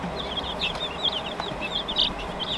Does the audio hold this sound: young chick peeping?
yes